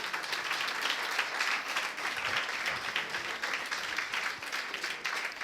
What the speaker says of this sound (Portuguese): Damos um aplauso para este Senhor maravilhoso.